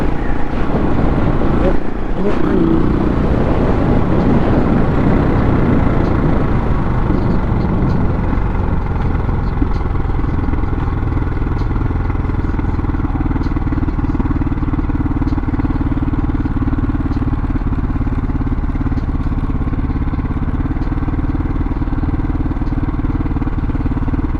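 A motorcycle with about 23,000 miles on it idles steadily outdoors, its engine running at a low, even rumble after a brief louder burst near the start, with someone talking occasionally over it.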